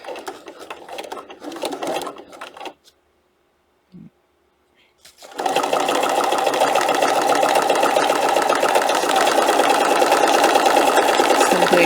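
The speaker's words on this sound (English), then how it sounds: "let's do our top stitching on the sleeves" A sewing machine top stitches the sleeves of a fabric book protector, running in short bursts, pausing in near silence, then stitching in one long steady loud run.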